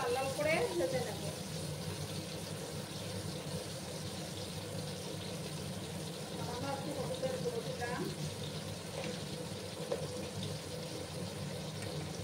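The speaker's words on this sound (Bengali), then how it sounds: "আলুগুলোকে লাল লাল করে ভেজে নেবো।" Cut potatoes frying in oil on high heat while an ilish fish curry is cooked, a steady, soft hiss and sizzle running under continuous talking.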